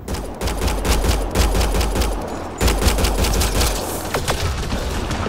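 Rapid automatic gunfire fills a sci-fi firefight in the video game Mass Effect Andromeda, loud sustained bursts of alien-shooting weapons with dense crackling shots and a sharp jump in intensity midway, no voices.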